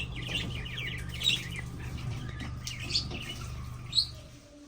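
Parrots chirp and squawk in short bursts, with a few sharp calls standing out over a steady low hum in the background.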